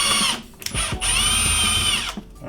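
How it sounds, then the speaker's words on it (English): Power drill pre-drilling a screw hole in a wall for a floating shelf, whining in two loud bursts with a short pause between and a brief stop near the end, close by with no talk. "All right, I got one hole pre-drilled."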